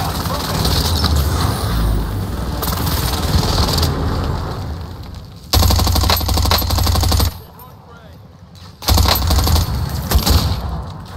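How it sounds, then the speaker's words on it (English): Heavy explosions and gunfire from an enemy precision airstrike in a first-person shooter, loud bursts of bombardment with a brief lull around the middle, mixed with game noise while players talk over it. "Enemy precision airstrike."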